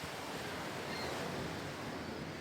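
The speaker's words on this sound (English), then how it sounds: "The sounds of crashing waves." Steady roar of crashing surf in the video game Baldur's Gate Enhanced Edition, broadband and continuous, with a windy wash over it and no voices.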